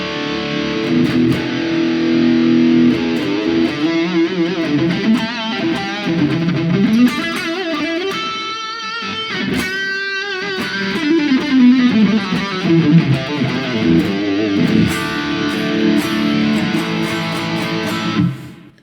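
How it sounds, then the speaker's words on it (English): Heavily distorted electric guitar through a modelled Laney VH100R valve amp on a Quad Cortex, playing loud, thick, sustained chords and riffs continuously for the whole stretch. "So it is the Laney VH100R, and it sounds like this."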